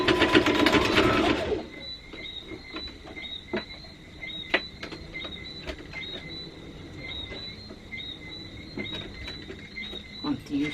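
A sewing machine stitches a sleeve onto a simple wrap dress. After a brief loud rustle at the start, its quiet, steady whirring hum runs close up with light rhythmic ticking, and there is no talk.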